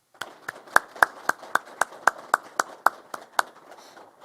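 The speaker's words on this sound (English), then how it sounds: "with a round of applause" At a Detroit Police Department graduation, a round of applause for the police TAC group comes through as a sparse, steady series of about a dozen distinct claps, fairly close and isolated rather than a full crowd.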